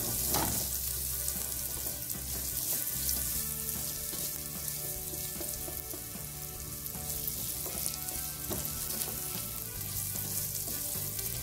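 Garlic and onion sauté in a pan with a steady, dense sizzle that runs the whole time, a melodic backing track playing over it.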